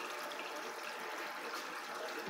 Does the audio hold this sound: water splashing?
yes